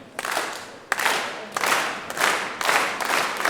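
A wrestling crowd claps and cheers in a loud, continuous wash, with swelling bursts of applause roughly every half second and some talk buried underneath.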